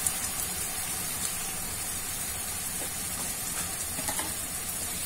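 Onion browning in a pan with tomato and garlic added, a dense steady sizzle with small crackles and pops throughout, no talking.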